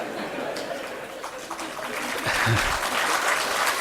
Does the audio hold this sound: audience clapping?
yes